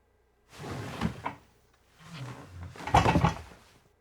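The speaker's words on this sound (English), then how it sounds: "A little bit of the chair again." A chair moving, laid in as a Foley effect for a film sound mix: two close, fairly loud bursts of creaking and scraping, the second stronger and rougher, with no talking around them.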